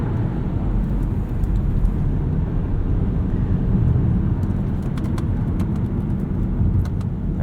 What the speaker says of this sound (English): there is quite a bit of wind noise at speed